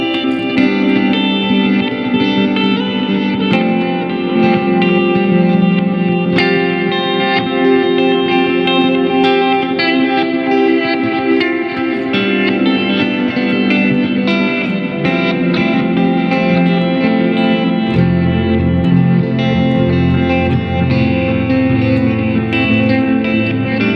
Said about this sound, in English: Kind of hear those delays in the background reversed